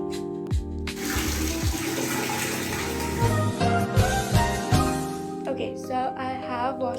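Water runs steadily from a tap while hair is being washed indoors, a continuous splashing flow with occasional knocks and handling sounds.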